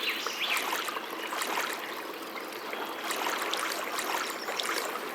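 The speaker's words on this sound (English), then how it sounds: "Look at how fast the water moves over there. Spots where the water moves really fast are called rapids." River rapids in the Molly's Canoe Quest cartoon game, a continuous bright rushing and burbling of fast water, steady and fairly close with no talking.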